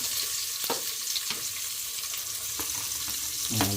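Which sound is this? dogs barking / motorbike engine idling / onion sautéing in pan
onion sautéing in pan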